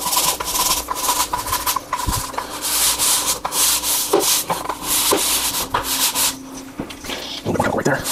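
A brush scrubs hard over filthy grout with a chemical cleaner, giving a loud, continuous rasping scrub with steady back-and-forth strokes and no talk.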